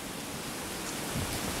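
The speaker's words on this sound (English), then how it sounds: "the stupid rain is getting into my face." Steady rain falling during a thunderstorm, a dense, even hiss filling the whole moment with no voices.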